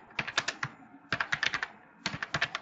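Bursts of rapid typing on a computer keyboard, three quick clusters of crisp key clicks separated by short pauses, close and clear with no talking.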